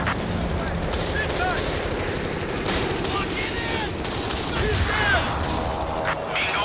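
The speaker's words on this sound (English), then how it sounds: "I've got to reorient my machine guns over here to try and help out with that" Machine gun fire echoes across a World War II strategy game battle, with continuous overlapping bursts of automatic gunfire and mechanical clatter. It stays dense and loud throughout, and nobody speaks.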